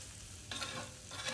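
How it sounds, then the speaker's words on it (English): Steady crackling sizzle of garlic frying in a pan, close up, with bursts of louder spitting and stirring. "I don't even have the heat on. Look at that, nothing. And it's already frying."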